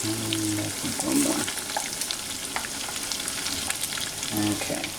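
Close, continuous sizzling and bubbling from mac and cheese bites deep frying in oil, with brief stirring clatter at the start and near the end.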